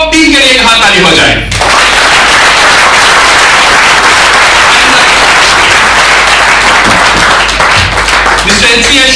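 A large team audience at a business motivation talk bursts into loud, dense applause that fills the whole stretch, with a voice heard at the very start and close.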